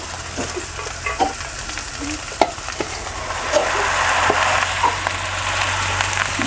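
Amaranth greens are stirred into a pan of hot oil with garlic and chilli, sending up a steady, close sizzle with scattered scraping clicks of the spatula and no talk.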